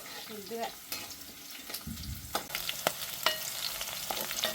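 Onions fry in a pan during village home cooking, a steady close sizzle with scraping stir strokes and small pops throughout, no talking.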